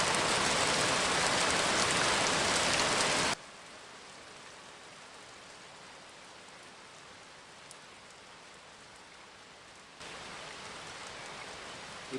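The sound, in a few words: rain falling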